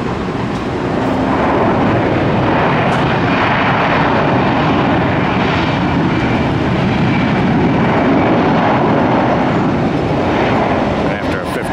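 A United Boeing 757 jet taking off at Tampa International Airport, heard as a loud, continuous, broad engine roar that holds steady throughout.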